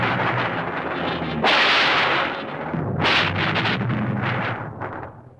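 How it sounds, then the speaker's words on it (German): Loud rumbling thunder crashes on a dark, stormy night in a 1934 Mickey Mouse cartoon, with a heavy burst around the middle and another sharp crack near the end over a continuous roar. "Und es donnerte laut."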